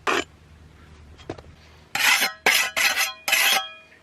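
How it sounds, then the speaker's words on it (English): Trowel scraping excess mortar off a concrete block in several rough, raspy strokes, four of them longer and louder after a couple of faint early scrapes and taps. "I'll scrape off my excess mortar,"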